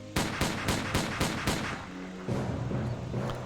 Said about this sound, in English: the sound of gunfire and smoke rushed toward the boy, as though a bunch of firecrackers had been set off